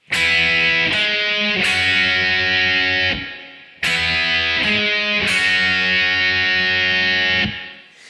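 Distorted electric guitar strikes a short riff of chords twice, each phrase ringing out loudly before fading, with a brief pause between.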